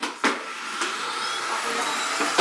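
A vacuum cleaner that no longer picks up well runs steadily at close range, a loud continuous whine with a few brief bumps and surges as it moves.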